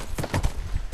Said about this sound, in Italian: Quando si può passare, prendiamo il cavallo.